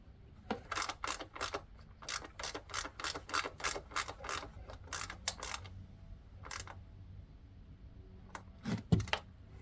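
Rapid ratchet clicks come in quick bursts, loud and close, as bolts on a high fender mount are tightened on a Yamaha Tuareg 660 motorcycle, with short pauses between runs and a clunk near the end.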